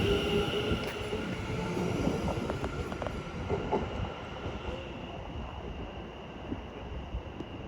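Class 720 electric multiple unit passing through Cambridge North station as a Liverpool Street service, a steady near rumble with wheel and rail noise and faint squeal throughout.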